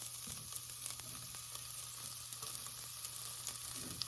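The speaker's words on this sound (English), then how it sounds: "First, we're gonna drop fresh garlic" Fresh garlic dropped into a hot pan for chicken basmati rice soup gives a steady, soft sizzle with faint crackles throughout, a low hum underneath and no talking.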